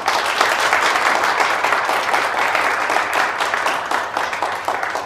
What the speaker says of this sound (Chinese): 大家鼓掌致贺